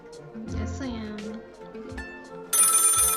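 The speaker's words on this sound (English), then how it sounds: "The phone is ringing." A telephone rings in the video game Lil Guardsman, starting loud and steady near the end after other game sounds and a brief voice-like tone.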